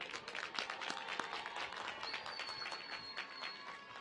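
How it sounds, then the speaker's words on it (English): Crowd applause at a spring commencement ceremony honoring newly commissioned army officers, steady scattered clapping in a large space, fairly faint, with a brief high whistle-like tone partway through. "Please give them a round of applause."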